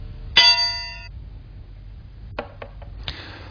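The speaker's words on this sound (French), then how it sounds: "Je commence par extraire le graveur." A laptop's optical drive is pulled out during disassembly, giving one sharp metallic clang that rings for almost a second. A few short clicks and a brief scrape follow, all close and with no voices.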